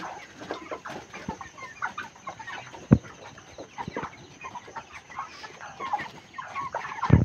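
Broiler chickens on a poultry farm cluck and murmur continuously from many birds at once, with a few louder sharp calls standing out from the close, busy flock.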